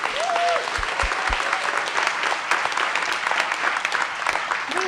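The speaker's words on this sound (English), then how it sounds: "Let's give these folks a round of applause" An audience at a movement gathering on a regenerative economy applauds continuously, dense clapping at steady strength with a brief voice or whoop early on.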